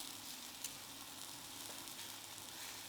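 A barrel-rolled beef fillet steak sizzles on a hot cooking rock at a steakhouse table, giving a faint, steady, hissing sizzle that holds evenly throughout with only a small tick here and there.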